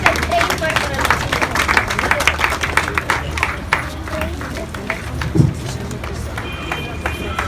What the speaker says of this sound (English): Big round of applause for Disha.